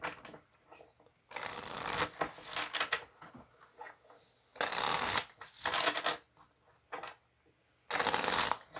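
Tarot cards are shuffled in several quick riffling bursts, close and fairly soft, separated by short pauses, with no talking.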